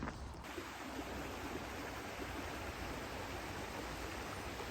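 A stream flows beside a moorland wild campsite in Devon. The water rushes in a broad, steady wash that continues without pause, with no voices over it.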